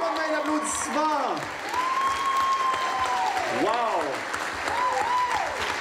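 Audience applause at the Nadeshicon 2016 cosplay masquerade: steady, dense clapping from a crowd fills the whole stretch while a host's voice speaks over it.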